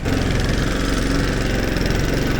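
A walk-behind tractor (motoblock) engine runs steadily before a launch on a former airstrip, a loud, close, rhythmic chugging idle that continues unbroken.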